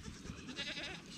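A young goat bleats faintly and briefly, a quiet plaintive cry against soft background noise.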